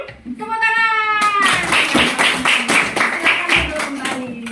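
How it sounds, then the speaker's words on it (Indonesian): Classroom of pupils claps after singing a food-chain song, a few sharp claps following a sustained sung note, with voices throughout. "Tepuk tangan."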